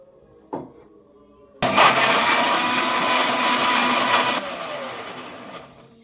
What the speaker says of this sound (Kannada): ಈ ತುಂಡುಗಳನ್ನು ಮಿಕ್ಸಿಗೆ ಹಾಕಿ ಮೃದುವಾಗಿ ಗ್ರೈಂಡ್ ಮಾಡ್ಕೋತೀನಿ